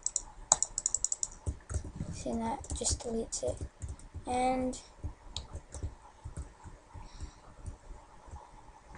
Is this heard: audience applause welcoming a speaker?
no